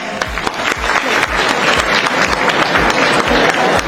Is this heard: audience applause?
yes